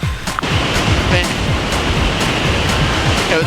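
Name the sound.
waterfall in Iceland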